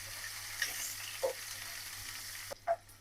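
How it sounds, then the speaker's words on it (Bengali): Onion and green chili frying in hot oil with bay leaf and cumin, a soft steady sizzle with a few brief stirring scrapes and clinks. "পেঁয়াজ কাঁচামরিচ ভেজে নেব।"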